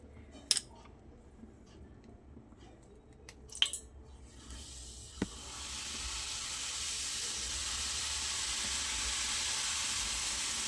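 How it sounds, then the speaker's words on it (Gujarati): Masala sev dough pressed from a sev maker into hot oil, a few sharp clicks at first, then a steady loud sizzling hiss of frying that swells and holds. "તેલ આપણું સરસ ગરમ થઈ ગયું છે. હવે આ રીતે આપણે સેવને પાડી લઈશું."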